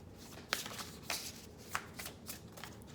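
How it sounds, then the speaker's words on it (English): A large deck of oracle cards being shuffled by hand, riffling in soft, quick bursts with several sharper snaps, close and quiet with no voice over it. "Let's pull one Oracle card for you."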